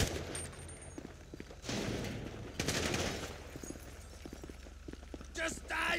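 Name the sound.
gunfire in the video game Grand Theft Auto V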